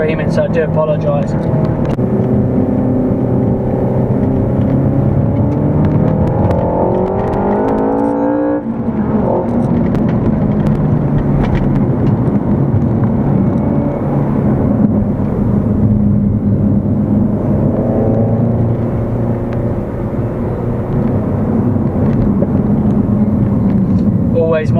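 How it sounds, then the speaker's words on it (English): A Renault Megane RS300 Trophy hot hatch revs hard while driving, its engine rising and falling in loud, strained sweeps through gear changes, with someone talking over it at times. "The engine's going to sound like it's screaming,"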